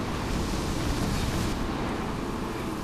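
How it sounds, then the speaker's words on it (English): Massive waves and wind surge around a vessel plowing through a stormy sea among icebergs, a steady roaring wash of surf and wind noise at moderate level throughout, with no voices. "we're plowing through massive waves that conceal marauding icebergs"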